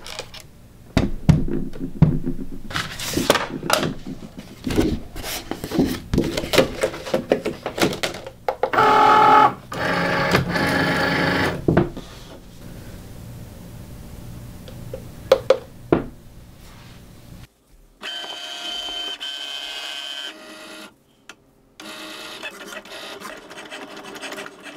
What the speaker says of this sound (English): let's stick it in the machine and see if the faux leather cut setting works well